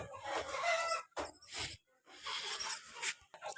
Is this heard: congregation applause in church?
no